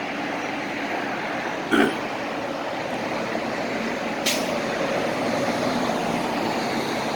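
Street traffic with trucks passing outside an apartment in spring, a steady broadband roar of engines and tires with a brief hiss near two seconds and a short sharp burst later, continuous and fairly loud, no talking.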